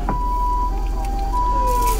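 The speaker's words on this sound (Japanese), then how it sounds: "救急車。" An ambulance siren wails steadily at a McDonald's drive-through in Sendai, heard from inside a car over a low engine rumble, its pitch shifting slightly as it passes.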